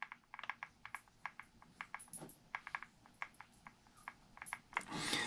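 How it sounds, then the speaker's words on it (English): Spur gear on a Traxxas Fiesta Rally RC car being rocked back and forth by hand, giving a series of small, sharp, close plastic clicks in an irregular rhythm, ending with a brief rustle. "when you can hold this gear and take this one and move it, and it just makes a tiny little click."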